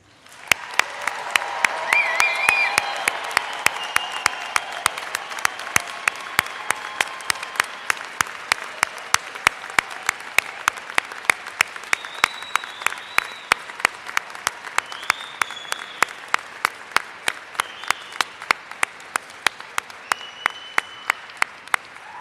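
An audience at a commencement ceremony applauds the newest graduates with a broad wash of clapping. Sharp, regular rhythmic claps ring out clearly above it, and faint cheers come through early on.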